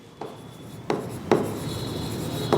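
A pen writes profit figures by hand on paper during an accountancy lesson, with a few distinct tapping strokes followed by steady close scratching, and no voice over it.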